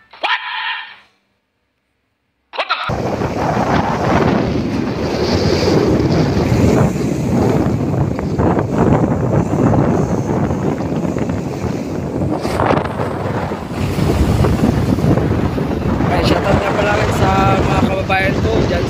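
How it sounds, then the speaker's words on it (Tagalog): Heavy surf of 8 to 9 foot ocean waves crashes and rumbles under strong wind buffeting the microphone, a continuous loud wash of breaking waves after a brief quiet start, in the West Philippines. "9 feet or 8 feet ang alon dito sa West Philippines."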